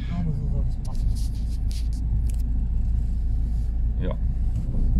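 A lowered car rolls slowly into a steep home driveway in freezing cold, its engine rumbling steadily while the rear axle starts to give trouble; people talk briefly over the continuous low drone.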